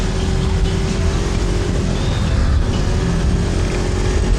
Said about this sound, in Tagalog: Nako, traffic dito sa New Star.